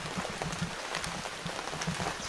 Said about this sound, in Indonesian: Kita disambut dengan hujan.